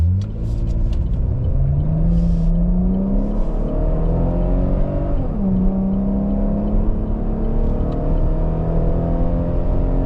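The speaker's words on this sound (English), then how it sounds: "let's see how this Camaro runs" A Chevrolet Camaro on a mountain drive, its engine rising and falling through revs as it accelerates and shifts, a steady interior rumble with climbing pitch sweeps, no one talking.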